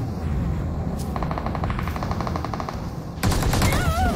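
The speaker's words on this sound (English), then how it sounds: "He has a minigun in the back." Minigun fire in the mobile battle royale game PUBG Mobile, with rapid buzzing bursts of gunfire over a rumbling battlefield background, a short burst, a longer sustained stretch, then a louder close volley near the end.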